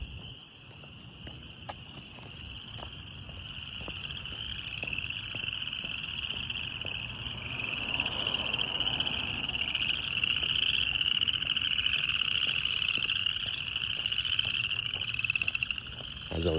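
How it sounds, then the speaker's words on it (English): Dense chorus of frogs croaking steadily through a night-time outdoor walk, a continuous high trilling band with crickets and insects mixed in, growing slightly louder partway through and heard alone without talk. "the frogs remain quite active as always"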